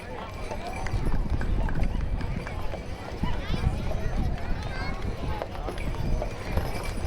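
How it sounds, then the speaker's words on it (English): A team of Belgian geldings pulls a covered prairie schooner wagon in a Christmas parade, their hooves clip-clopping steadily on pavement amid crowd noise and an announcer's voice. "Covered Prairie Schooner, pulled with a team of Belgian geldings, Fred and Dan."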